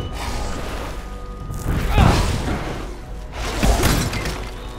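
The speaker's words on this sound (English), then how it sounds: "Haha, shatter!" Enemies shatter in the Path of Exile action game with two heavy crunching bursts, a few seconds apart, that ring out over a steady rumbling game backdrop.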